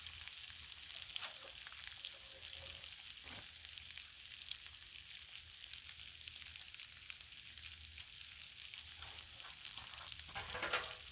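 Bacon sizzles and crackles steadily on a Blackstone griddle outdoors, a dense, even hiss with occasional pops and scraping stirs, no voices.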